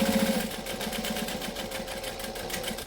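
A sewing machine runs steadily, stitching layers of fabric from bottom to top with a back stitch, its motor hum and rapid needle pulses continuous and close throughout.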